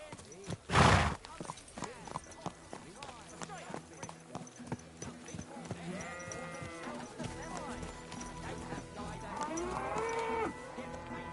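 Horse hooves clip-clop in a steady rhythm while riding in Kingdom Come: Deliverance 2, under game dialogue, with a loud thump near the start and livestock sounds mixed in.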